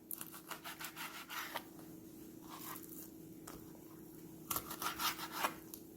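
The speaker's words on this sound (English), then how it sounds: "So we're going to cut that off with a knife." A kitchen knife cuts through a squid head on a board, giving soft scraping and crunching strokes in short bursts, close and quiet, with pauses between cuts.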